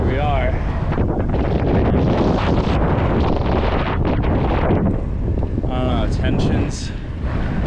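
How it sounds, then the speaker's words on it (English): Strong wind buffets the microphone while rollerblading along a Florida state trail, a loud continuous rushing roar with brief bursts of other noise and no clear speech. "it's not super windy, but it is definitely pushing"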